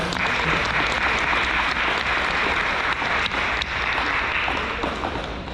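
An audience at a senior awards night applauds steadily, a loud, continuous wash of many hands clapping that holds for several seconds and eases slightly near the end.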